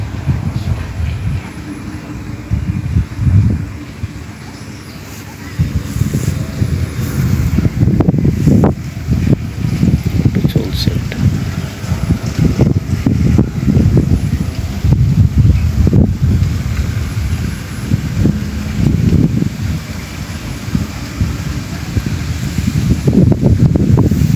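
Wind gusting across a village farm in rural Bangladesh, blustery rumbling microphone buffeting that rises and falls in strong surges over about twenty seconds.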